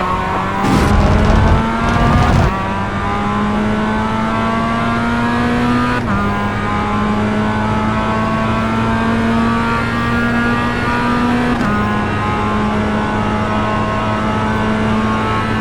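A Mazda race car engine drones loudly and continuously in the iRacing sim at VIR, holding a steady pitch with quick shifts and a burst of revving early on.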